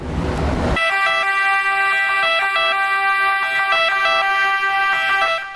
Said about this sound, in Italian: I mezzi nel parco macchine e le sirene attive pronte alle emergenze.